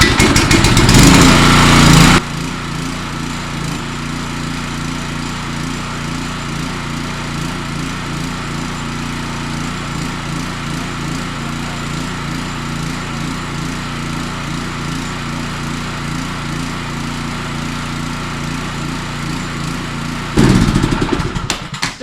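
A power washer's small gas engine runs on old, stale fuel for about twenty seconds, a steady, slightly uneven drone with a louder burst at the start and end.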